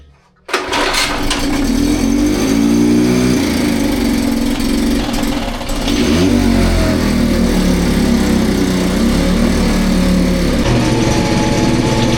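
A 1957 outboard motor catches on a pull start and keeps running as a loud, steady buzzing drone with no voices, the pitch wavering slightly at the midpoint.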